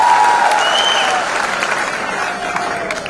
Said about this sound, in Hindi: एक बार जोरदार तालियां इन सभी छात्रों के लिए, इन सभी सम्मान प्राप्तकर्ताओं के लिए।